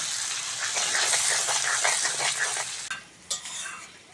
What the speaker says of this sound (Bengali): পেঁয়াজ টমেটো কাঁচা লঙ্কা ভালো করে ভেজে নেব।